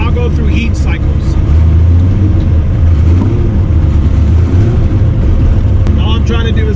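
A car with a new clutch being broken in is driven gently through first, second and third gears, its engine droning steadily with mild rises and falls in pitch under a voice.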